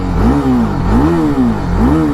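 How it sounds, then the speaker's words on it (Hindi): A 2025 TVS Apache RR310 motorcycle exhaust revved up close and loud: three rising-and-falling blips of engine pitch over a rough idle, with no voices. "इसका जो एग्जॉस्ट नोट है, एग्जॉस्ट साउंड है, वो भी एक बार चेक कर लीजिए।"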